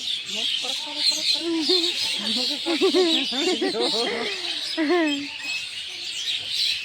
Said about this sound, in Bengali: বাড়ি বাড়ি খালি পাখির কিচিরমিচির।